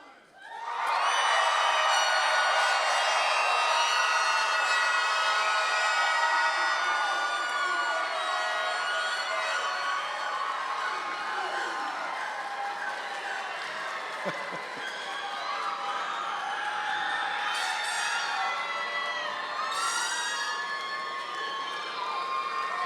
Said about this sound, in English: crowd, as we do this, I want to hear the loudest roar of the night